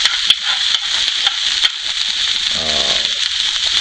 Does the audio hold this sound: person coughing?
no